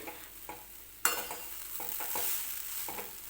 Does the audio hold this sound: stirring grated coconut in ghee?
yes